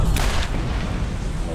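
Turret-shooting gunfire in Borderlands, Claptrap's New Robot Revolution final boss fight: a steady, loud wash of heavy blasts and booms runs through the whole stretch, close and continuous, with a sharper crack near the start.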